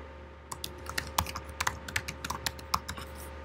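Typing on a computer keyboard at a desk, with a quick irregular run of crisp, close key clicks over a steady low electrical hum and no talking.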